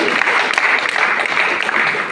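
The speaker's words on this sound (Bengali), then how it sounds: "জোরে একটা হাততালি" An audience in an auditorium seminar bursts into loud applause, dense, close clapping that holds steady for about two seconds.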